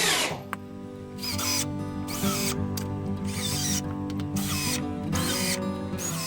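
Power drill driving screws into plywood panels during a fireplace insert framing install, a steady whirring drone in repeated bursts of about a second each, loud and close with no talk.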